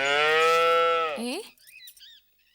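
A cow moos once, loud and close, a long sustained low call that bends upward and breaks off, followed by a few faint squeaky sounds.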